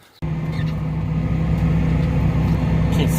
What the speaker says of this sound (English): I'm going to take this tractor and bean planter, back it in the barn, back into the shop there